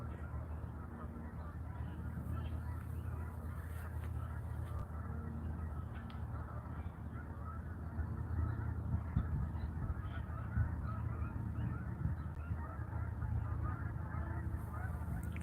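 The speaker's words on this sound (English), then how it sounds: "Comes a big flock of geese." A large flock of geese honking somewhere off in the woods by a river, a faint, busy chorus of overlapping calls set against a low steady outdoor rumble, with no talk.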